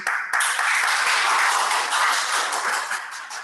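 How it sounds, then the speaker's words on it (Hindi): An audience at a spiritual talk bursts into dense, steady applause that holds loud and even for several seconds without speech. "ठोको ताली।"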